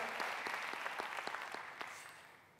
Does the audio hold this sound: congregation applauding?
yes